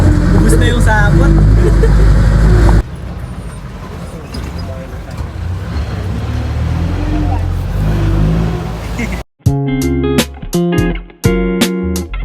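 Jeepney engine noise and traffic rumble loudly, shifting partway through, with people talking and sharp bursts of other sound near the end.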